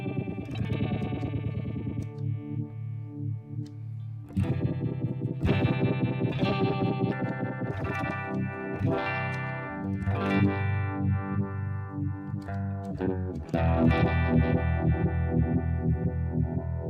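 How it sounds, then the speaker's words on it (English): Electric guitar chords pulsing through a tremolo pedal in a steady rhythmic throb, the volume wavering up and down continuously, with echoey effects and no talking. "there you can really hear the throb"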